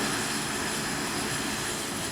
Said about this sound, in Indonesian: pesawat Super Hercules A1339 mendarat di Bandara Internasional Minangkabau, Padang